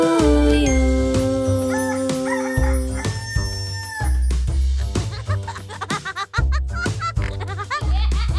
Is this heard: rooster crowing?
yes